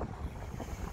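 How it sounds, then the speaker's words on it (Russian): Steady wind buffets the microphone at a ferry dock near Marseille, a loud continuous low rumble with gusty swells throughout and no voices. "Сейчас ветер тут, наверное, не слышим будет."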